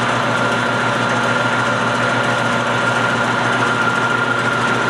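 A lathe runs steadily with a center drill held in the tailstock chuck, cleaning up the inside diameter of a banjo bolt; a continuous mid-pitched machine hum with a faint whine, close and even throughout, with no talking.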